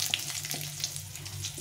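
Dry red chili, half a spoon of cumin and a bay leaf frying lightly in hot oil, a soft steady sizzle broken by a few small crackles and stirring taps, close but fairly quiet.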